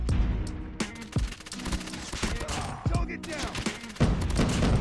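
Rapid automatic gunfire from a QXR in a first-person shooter match, bursts of shots fired repeatedly over game sounds and a faint voice.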